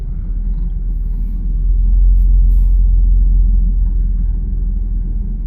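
A Porsche 944 on a short up-and-down test drive gives a steady, loud low rumble of engine and road noise from inside the cabin, swelling slightly midway, with no talk.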